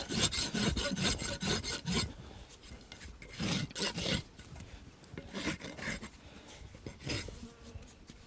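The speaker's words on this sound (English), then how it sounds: "And then we just run the rasp around and take that flare off." A farrier's rasp files the flare off a horse's hoof during a barefoot maintenance trim, giving repeated rough, scratchy strokes in bursts, close and fairly loud, with brief pauses between passes.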